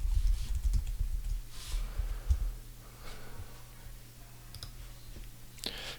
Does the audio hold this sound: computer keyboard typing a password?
yes